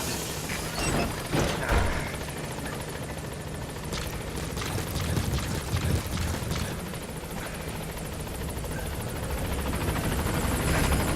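A B-Quad helicopter from Metal Gear Solid V: The Phantom Pain flies in toward a landing zone, its rotor beating in a continuous, fairly loud drone with scattered impacts and crashes over it and no speech.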